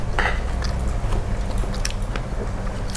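Crisp fried omelette eaten with papaya salad, bitten and chewed close up in a steady run of wet, crunchy mouthfuls, with no talking.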